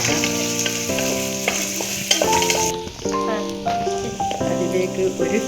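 Garlic and vegetables for an okra curry sauté in a hot pan, giving a loud continuous crackling sizzle with occasional stirring, while background music plays throughout.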